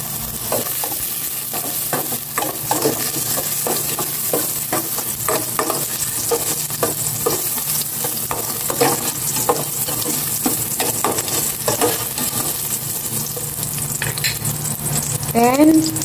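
Ginger sautéing in hot cooking oil in a pan, a steady loud sizzle with frequent scraping and stirring strokes, close up and without speech.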